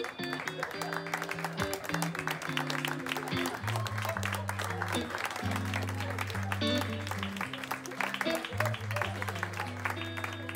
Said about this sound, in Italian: visto che avete fatto l'applauso